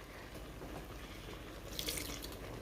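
Milk poured as a small splash into a cooking pot in a home kitchen, a steady liquid trickle and gurgle that rises briefly near the end, heard close up without talk.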